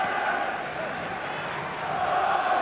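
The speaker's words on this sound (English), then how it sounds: "But good applause for the keeper, and he deserves it." Football stadium crowd roaring and applauding a goalkeeper's save during a Northern Ireland match, a dense, steady wash of distant crowd noise with no distinct individual claps.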